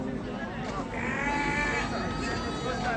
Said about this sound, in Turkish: bir-birindən gözəl keçilər gətiriblər